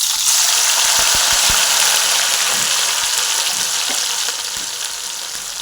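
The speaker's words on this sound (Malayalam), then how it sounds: "എണ്ണ ചൂടായിരിക്കുകയാണ് നമുക്കതിലേക്ക് വേവിച്ച് വെച്ചിരിക്കുന്ന ബീഫ് ഇട്ട് കൊടുക്കാം" Precooked beef pieces landing in hot coconut oil for a Kerala-style beef pickle, a loud, dense, steady sizzle with a few sharp pops at the start, gradually easing, with no voices.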